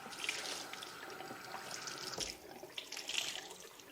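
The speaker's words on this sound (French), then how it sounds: "J'imprègne ma lavette d'eau claire" Tap water running into a sink while a cleaning cloth is soaked in clean water during descaling work, a faint steady trickle with light splashes and drips.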